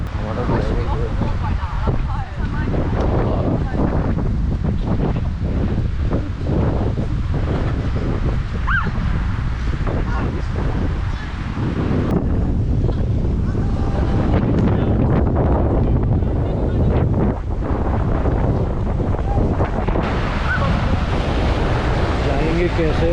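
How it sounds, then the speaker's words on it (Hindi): Strong sea waves and gusting wind buffet a boat on an island tour off Krabi, a loud, constant roar with heavy wind rumble on the microphone and voices talking underneath. "लहरें जो है वो काफ़ी तेज़ हो गई है हवा की वजह से।"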